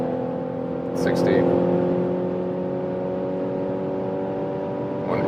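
A plug-in hybrid SUV on 20-inch wheels travels at very high motorway speed, producing a steady, fairly loud drone of road and wind noise with tonal whine throughout and a brief swell just after the first second.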